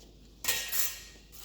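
Spoon or utensil working through a bowl of ravioli filling with flour and herbs, a faint scrape followed by two close clattering scrapes against the bowl.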